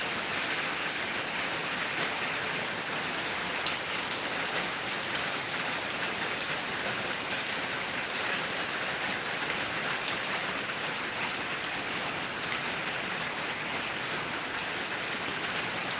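Steady rain falls on an asphalt road outside a house in Kerala, a dense, even hiss of drops that holds constant for the whole stretch with no voices.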